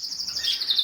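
Birds in a breeding flight aviary, a hen and a male, give rapid high chirps and tweets, clear and fairly close, continuing without pause through the brief moment with no talking.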